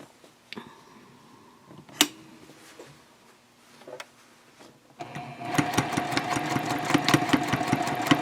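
A sewing machine topstitches an eighth of an inch from the edge of a fabric eco-friendly shopping bag, sewing through webbing. Quiet handling sounds come first, then a steady, close, busy machine whir runs continuously through the last three seconds.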